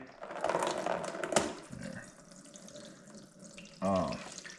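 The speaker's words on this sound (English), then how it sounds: "it's a good thing we're draining this oil" Oil drains from a Minneapolis-Moline 4 Star tractor in a gurgling, splashing stream that fades, then returns as a short burst of pouring near the end.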